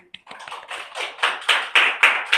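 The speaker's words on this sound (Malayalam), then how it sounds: "ഒരു ക്ലാപ്പ് കൊടുത്തേ." A chemistry class of students clapping, starting with a few scattered hand claps and building into a steady, rhythmic round of unison claps that grows louder, with no talk over it.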